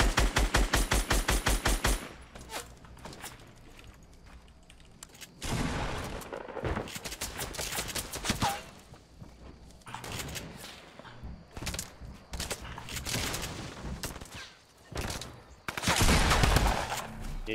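Gunfire in Fortnite during a squad match: bursts of rapid automatic shots and single loud cracks come and go in waves, with quieter gaps, and faint talk now and then.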